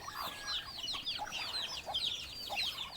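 Chickens and small chicks cluck and peep busily together while being fed, a dense stream of bright chirps and clucks close by with no talk.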